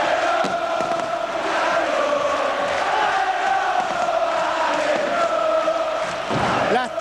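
A large football stadium crowd in 1994, with Huracán supporters filling the away section against Independiente, roars steadily throughout. The chanting and cheering stay loud and unbroken, with a swell of shouting near the end.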